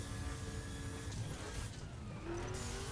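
Race car engine in The Crew racing game holds a steady high-pitched drone on a speed-record track, with a faint rising pitch sweep as it strains to shift into sixth gear.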